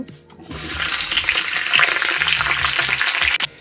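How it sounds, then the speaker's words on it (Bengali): Potatoes for Bengali aloo dum fry in hot oil in a pan, a loud, dense crackling sizzle that bursts in after a quiet start and hisses steadily for about three seconds before a clatter and cut. "আলুগুলোকে সবার প্রথমে একটু ভেজে নিব"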